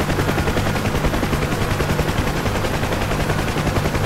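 Aircraft cannon fire in a flight combat game, a sustained rapid burst of gunfire that rattles steadily and loudly throughout, with an engine hum underneath.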